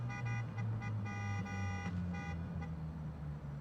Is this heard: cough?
no